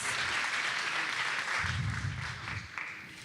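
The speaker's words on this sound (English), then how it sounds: "let's give him one more round of applause" Applause from a crowd at a 2018 congressional campaign kickoff, steady and fairly loud throughout, with a low murmur of voices rising partway through.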